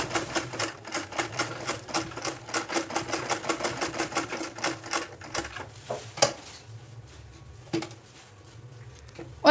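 A sewing machine stitches a potli neck design on a kurti, running in fast rhythmic bursts up close, then slowing to a few isolated stitches and stopping, with no speech.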